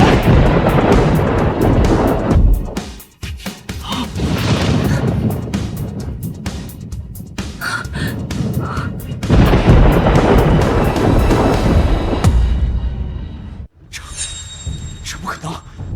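Booming thunder rolls loudly in a historical drama scene, with deep sustained rumbles and crashes, interrupted by brief quieter gaps, mixed with dramatic music and voices.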